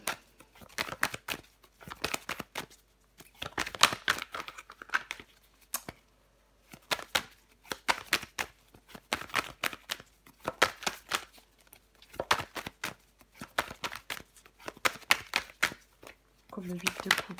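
Tarot cards being shuffled, flipped and laid out on a table in quick papery bursts of crinkling and slapping, close and fairly soft, with pauses between handlings.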